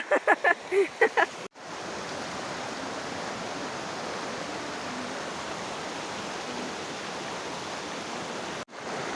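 A river stream flowing, a loud, even rush of water that fills the whole stretch after a brief burst of voices at the start.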